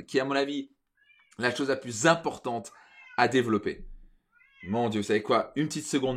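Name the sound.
cat meowing loudly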